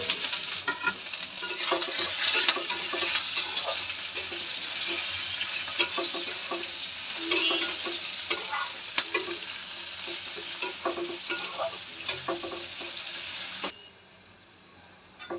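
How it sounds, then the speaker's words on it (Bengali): Onions fry in hot oil with whole garam masala and bay leaves, a loud continuous sizzle broken by repeated scraping strokes of a spatula stirring the pan, ending abruptly near the close. "পেঁয়াজটা লাল লাল করে ভাজা হয়ে গেছে।"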